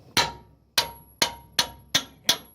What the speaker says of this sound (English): I'll use a big ass chisel and a big hammer.